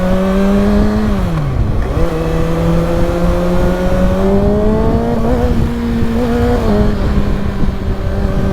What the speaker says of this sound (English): that's that glitchy part of the quick shifter